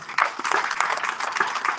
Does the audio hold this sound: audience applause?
yes